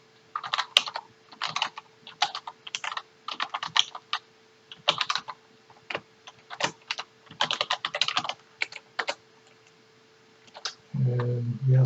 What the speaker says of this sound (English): I'm going to type in my email address.